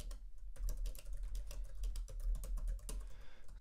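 Code being typed on a computer keyboard during an iOS programming tutorial, a close run of quick, uneven key clicks and taps with a few brief pauses, with no voices.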